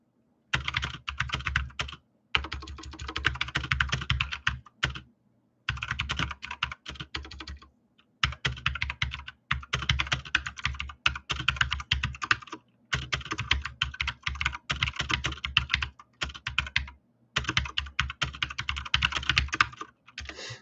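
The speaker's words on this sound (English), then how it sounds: "I'll type that in here too." Typing on a computer keyboard in bursts of rapid keystrokes separated by short pauses, close and clear, with no talking.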